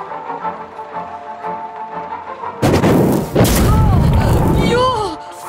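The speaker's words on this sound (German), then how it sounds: "Nehmen wir lieber mal den normalen Feuerangriff." A fire attack in the video game Circus Electrique bursts in partway through as a loud, dense crackling blast with whooshing and rising tonal effects, following quieter game music.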